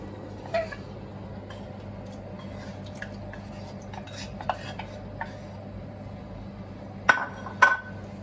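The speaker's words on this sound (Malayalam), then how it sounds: "നന്നായിട്ട് ഇളക്കി കൊടുക്കാം" A spoon stirs prawns through a Kerala coconut prawn curry in a pot, with a few sharp clinks of metal against the pot rim standing out over a steady low background hum.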